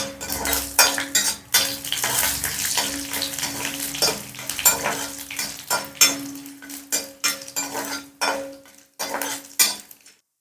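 Black pepper and cumin fry in a pan on low heat, with soft steady sizzling and popping under frequent scraping and clinking of a spoon stirring against the metal, close up and without speech.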